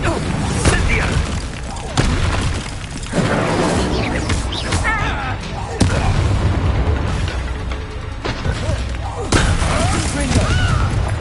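Fiery blast spells cast in the wizarding game Hogwarts Legacy, repeated loud booms and crashing impacts every couple of seconds, with a person shouting over the chaotic combat.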